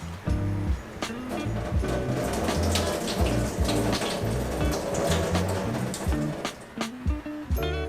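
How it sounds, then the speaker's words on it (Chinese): Tap water runs steadily into a sink while store-bought pickled mustard greens are rinsed, with small splashes and handling noises over the continuous flow, close by. "我买现成的雪里红啊，一样要稍微让它清洗一下，然后把里面的水稍微挤出来"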